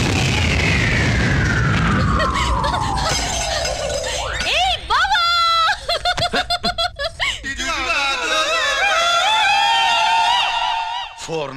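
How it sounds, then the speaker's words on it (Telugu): Firecrackers burst like bombs in a dramatic film scene: a loud boom and crackling explosions, then a descending whistling tone, rapid popping bursts and swelling musical effects, all loud and close. "ఫోర్నాలు బాంబుల్లా ఫేలిపోయినాయి ఏంటి?"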